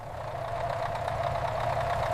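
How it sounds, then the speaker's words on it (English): An RC snow plow truck's engine running under strain while clearing wet snow, heard as a steady mid-pitched motor drone with a faint knocking rhythm underneath, continuous and fairly close. "The engine is running hot from the constant strain."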